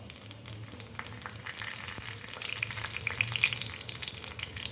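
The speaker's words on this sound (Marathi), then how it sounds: "आता मोहरी चांगली तडतडून देऊयात" Steady crackling and sizzling of mustard seeds popping in hot oil, a dense spattering texture with a low hum beneath, no voices.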